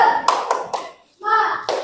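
Children in a classroom do a rhythmic spirit clap, sharp grouped claps in a quick pattern with a short pause midway, mixed with their voices chanting along.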